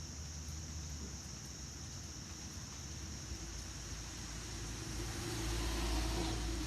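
A bus passes on a residential street, heard as a steady broadband vehicle rumble with a low engine hum that swells a little louder toward the end as it nears.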